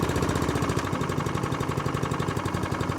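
Warmed-up ATCO Balmoral cylinder lawn mower engine idling close by, a steady rapid chugging putter that runs alone and evenly throughout.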